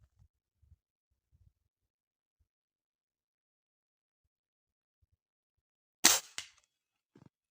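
A rifle fires a single loud, sharp shot outdoors in cold windy field conditions at an 80-metre range, with a brief echo trailing off and quiet handling noises before it.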